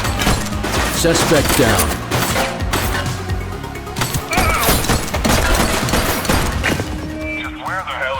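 Heavy, sustained gunfire in a police shootout, with a rapid barrage of loud shots, crashes and thuds running the whole time and shouted voices over the top.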